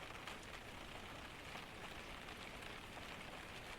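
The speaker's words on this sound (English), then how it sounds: "The near inaudible sound of rain finding its way into the deepest cracks of the forest floor" Steady rain falling in a forest during a Scandinavian storm, a soft, even hiss of drops on the ground, faint and continuous with no voices.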